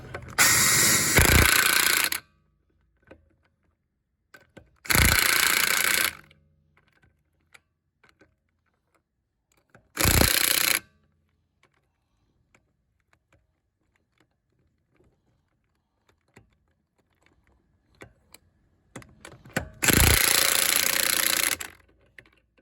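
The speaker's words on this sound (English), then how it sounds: "18 volt Snap-on half-inch impact gun." An 18-volt Snap-on half-inch cordless impact gun fires in four loud bursts, each about one to two seconds long, with quiet gaps between them while brake pads are changed on a 2007 Ford Edge.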